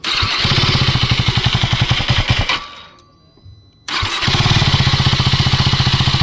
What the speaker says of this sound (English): Now let's listen to the exhaust note without the mic.